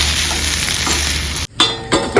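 A home-cooked vegetable dish with crushed peanuts sizzles loudly in a pan, a steady frying hiss followed by a brief pause and a few scraping stirs of the spatula.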